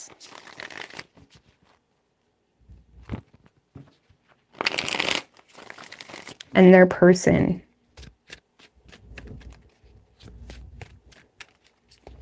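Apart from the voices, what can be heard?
shuffling tarot cards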